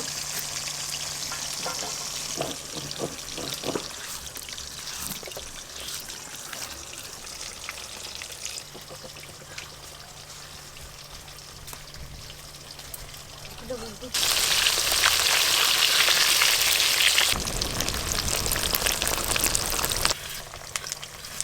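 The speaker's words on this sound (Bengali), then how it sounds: "মাছ ভাজা হতে থাক" A large fish, nearly three feet long and about 9 kg, fries in a pan with a steady sizzle, swelling into a louder, harsher burst of frying for a few seconds. Occasional knocks and a low hum run alongside.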